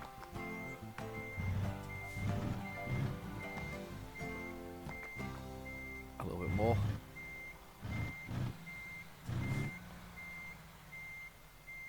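Reversing beeps from a truck in American Truck Simulator repeat at a steady rhythm as a high tone, continuing under engine rumble and a voice talking throughout.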